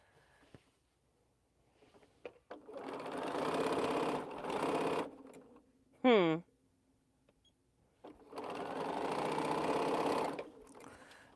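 Domestic sewing machine stitching quilt squares in several short runs separated by pauses, with a brief whirring rise in between; a person talks quietly at times.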